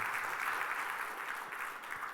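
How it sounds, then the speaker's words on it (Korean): Church congregation applauding together during a Korean sermon, a steady, moderately distant wash of clapping that holds evenly for a couple of seconds with no voices over it. "하나님 큰 영광의 박수 올립니다."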